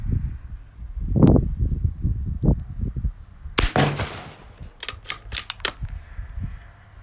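A bolt action rifle fired at the Deer Creek public target range in Ohio: one sharp, loud crack with a short ringing tail, then a quick series of crisp clicks, after muffled low background sounds.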